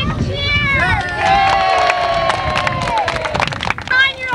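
Children and parents at a 1992 bike parade break into a loud, sustained cheer, excited shouts and screams layered over one another, with a few claps and voices tapering off near the end.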